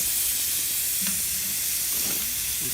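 Chicken sizzling on a grill just after being flipped, a steady hiss and crackle of frying running through, with a few soft low bumps from handling.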